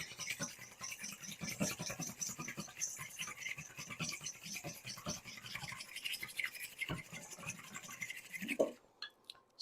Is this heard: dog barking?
no